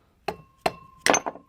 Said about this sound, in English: Using the hammer,